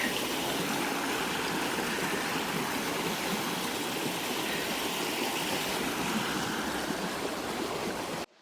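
Rushing creek water flows continuously and fairly loud, a dense steady wash that cuts off abruptly at the end.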